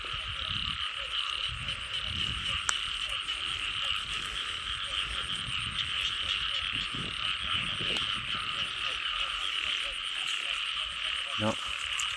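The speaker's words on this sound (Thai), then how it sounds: "กบโคมกัน" Many frogs croaking together in a dense, continuous chorus that stays steady and loud throughout, with no talking.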